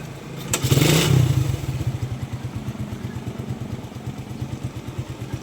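A carburetted Suzuki Raider 150 motorcycle cranks and fires up nearby, a brief loud start burst settling into a steady, rapid idle putter.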